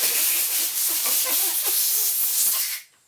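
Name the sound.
air compressor blowing air to remove bike grips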